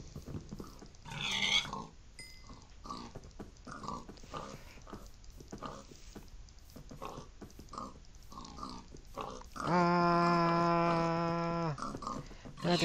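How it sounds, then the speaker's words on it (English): Pigs oinking in the Minecraft video game, a few short grunts scattered through the clip with a longer tonal game sound near the end, heard over quiet background play. "The pigs."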